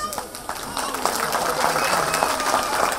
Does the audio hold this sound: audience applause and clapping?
yes